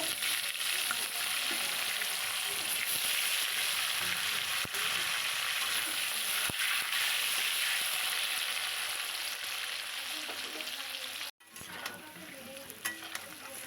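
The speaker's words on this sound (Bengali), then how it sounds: "মোটা মোটা করে আলু কেটে নিয়েছি এখানে দুটো আলুটা প্রথমে আমি ভেজে নেবো" Thick-cut potato pieces frying in hot oil, a loud continuous hiss and sizzle that runs steadily, briefly cutting out near the end before resuming more faintly.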